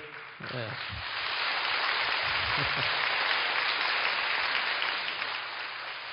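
A church congregation applauds during a sermon, a broad hissing wash of many hands that swells after a brief voice at the start and holds steady before easing slightly at the end.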